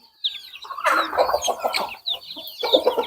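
Black hens and Australorp-type chickens with young roosters cluck and call in a close, busy run, several birds overlapping in short bursts with a brief lull partway through.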